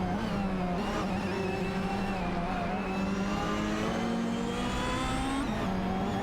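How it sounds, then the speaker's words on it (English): Racing cars in a video game race, including a Ford Mondeo 98 and a Peugeot 406, accelerate with loud, continuous engine whine that climbs steadily in pitch as they pull away close by. "Just Jazik and I Love Chicken Soup driving the Ford Mondeo 98 are fiercely contested by Neighbor and Super LaCroix in the Peugeot 406 for the 18th position"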